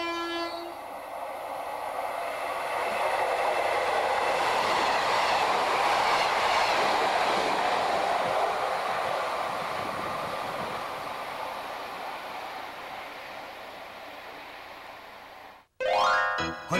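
An Ocean Arrow express train rumbles steadily along the rails, a loud continuous roar that swells and slowly fades before ending abruptly.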